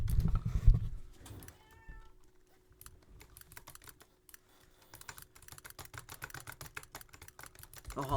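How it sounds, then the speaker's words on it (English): A pet cat meows in short, faint cries amid brisk computer keyboard typing during online game training, the tapping growing denser and louder toward the end. "Sorry, my cat."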